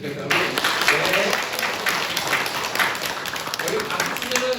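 A church congregation claps for a group of middle school friends, a moderate, dense patter of hands that holds steady as a pastor speaks over the applause.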